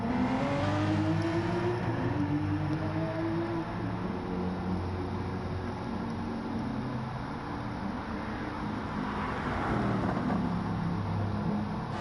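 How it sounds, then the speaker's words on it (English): A car in a racing video game, Gran Turismo, revs hard through handbrake turns, its engine note rising and falling in loud, continuous drones with tire noise, steady throughout without talk. "Sponge is giving it some handbrake turns"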